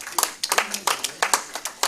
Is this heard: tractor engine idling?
no